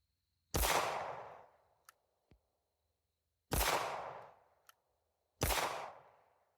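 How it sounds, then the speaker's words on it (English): Three loud, sharp gunshots from a firearm shooting groups of rounds at a target, spaced a few seconds apart, each with a short decaying echo and small clicks between. "I'm going to shoot 5 groups of 10 rounds and we'll see what happens."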